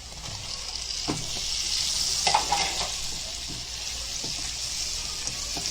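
Chopped tomato sizzling and frying in a pan while being stirred, a steady hiss with occasional scraping and clinking of the spoon against the pan, close and alone without talking.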